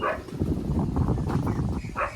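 A dog barks a couple of times, somewhat distant, over a low rumbling background.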